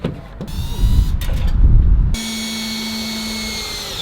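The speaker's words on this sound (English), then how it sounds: "all we're concerned about is trying to get the screws in through the flange to actually mount it to our framing" A power drill drives screws through a window flange into wood framing in a barn gym build, a loud rough grinding burst followed by a steady high whine that runs to the end.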